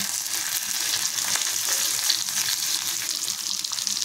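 Curry leaves sizzle and crackle in hot oil in a pan on low heat, a steady, close frying hiss with no voices.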